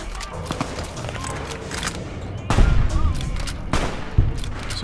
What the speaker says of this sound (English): So Boone's going full hand with that sniper rifle